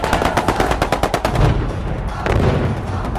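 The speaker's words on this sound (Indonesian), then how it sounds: "Pawan yang sedih karena kematian 3 rekannya pun langsung membabi buta ke tempat persembunyian Jepang dengan mesin senjatanya" Machine gun fire in a war film battle against Japanese positions: a rapid, loud burst of repeated shots for about a second and a half, then rumbling echo and battle noise.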